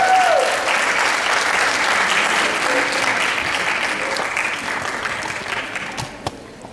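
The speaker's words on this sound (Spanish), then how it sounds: "Un fuerte aplauso." Audience at a school evening event breaking into strong applause, a loud, dense wash of clapping that slowly tapers off over several seconds.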